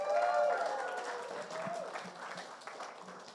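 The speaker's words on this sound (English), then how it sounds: "So let's welcome Fig and give them a big round of applause." An audience at a talk on personal branding and the creator economy applauds to welcome a guest, a moderate wash of many hands clapping that stays steady and fairly distant for a few seconds.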